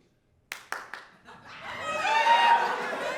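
A few separate hand claps in a comedy club crowd, then a swell of laughter and murmuring from the audience, fairly quiet and building.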